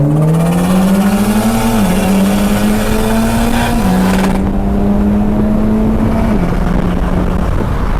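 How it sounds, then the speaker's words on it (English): Turbocharged Mitsubishi Evo X race car accelerating hard at Lakeside Raceway, a loud close engine note climbing through several gear changes with brief dips between shifts before fading. "these are Intense 56 turbos that me and Jamie have, putting in work today"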